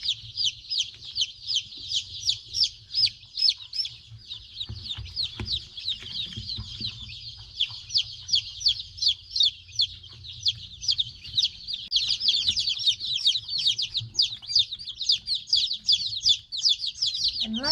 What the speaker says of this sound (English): So let's talk about care for these baby chickens.